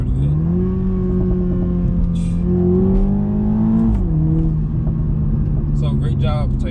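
A 2021 Toyota Supra with the 2.0-litre four-cylinder engine hums along with a steady droning exhaust note, rising slightly then easing off, loud and close, while a person talks over it.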